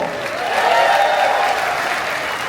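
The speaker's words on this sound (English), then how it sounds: "Please give yourselves a big round of applause." An audience claps together in a dense, sustained burst of applause that swells slightly and then holds steady, loud and close, with no voices standing out.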